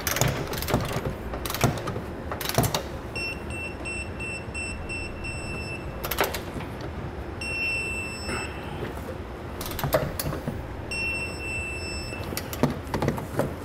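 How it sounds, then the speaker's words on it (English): Ratchet work on trailer hitch bolts under a 2017 Jeep Renegade: a few short clicking bursts and metallic rattles, with intermittent beeping tones in between, moderately close. "Now we'll want to start torquing our bolts down."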